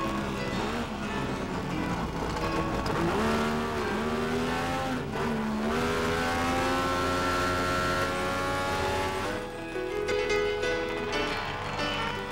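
Vintage Saab race cars roar past at a convention exhibition, their engines wailing up and down through the gears in a dense, continuous mid-distance din, with no voices.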